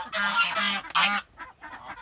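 Ducks in a rice paddy give loud, nasal honking quacks in three quick bursts, then softer calls trailing off, close to the listener.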